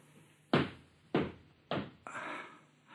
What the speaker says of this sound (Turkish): Kapı çalınıyor hatun